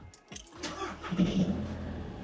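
A VW 1.6 or 2.0 TDI EA288 diesel engine cranks briefly and catches, settling into a steady idle up close after new glow plugs were fitted.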